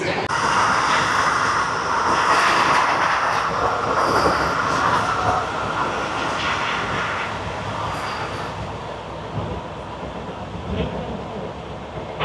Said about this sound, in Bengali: বর্ধমান জংশন থেকে ডানকুনির পথে আমাদের ট্রেন ছুঁয়ে ফেলেছে 130 ম্যাক্সিমাম স্পিড